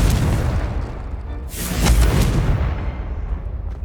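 A Confringo blast spell explodes in the Hogwarts Legacy video game, a loud booming burst that swells around the middle and then rumbles away, heard alone with no talk.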